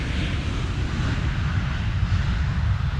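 A jumbo jet touching down at Schiphol airport gives a loud, continuous broadband engine roar with heavy low rumble that holds steady throughout, with no voices.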